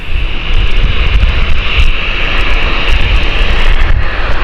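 A jet airliner takes off at Gatwick Airport with a loud, continuous close roar of its engines that holds steady throughout, with no voices.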